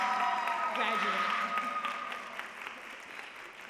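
An audience at a high school senior awards night applauds for the class salutatorian. The clapping is loud and broad at first, then gradually thins and fades, with voices underneath.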